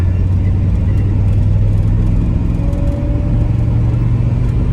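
A Volkswagen Crafter van fitted with a Mercedes 2.7 engine gives off a loud, steady low rumble from inside the cab, with a faint whir climbing slightly as it accelerates.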